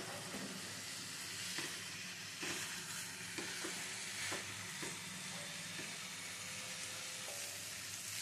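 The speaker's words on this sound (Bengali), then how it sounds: "ভেজে রাখা কুমড়ো দিয়ে কষিয়ে নেব।" Potato and pumpkin, fried earlier, stir-fried with spices in a pan, giving a steady close sizzle with stirring scrapes and soft clatters throughout, no voices.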